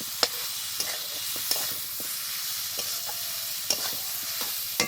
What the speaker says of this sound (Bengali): এবার খুব ভালোভাবে কষাবো, যতক্ষণ মাংসটা ভালোভাবে না কষানো হচ্ছে আর যতক্ষণ তেলটা না বেরোচ্ছে